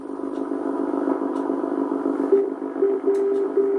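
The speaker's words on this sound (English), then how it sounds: "So what are the benefits of non-directional beacons? Well, they sound like this." Non-directional beacon signal received on a radio: slow Morse code as a steady tone of short and long beeps, rising out of constant buzzing static and hiss in the second half of the clip, with no voices.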